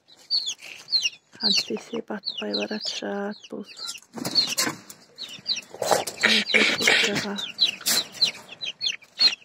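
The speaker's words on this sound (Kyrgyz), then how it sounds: "Баягы жазында алган жөжөлөрүм мынакей уже тоок болуп баратат." Young chickens clucking and cheeping close by in short bursts, with some wing flapping, while a person talks over them.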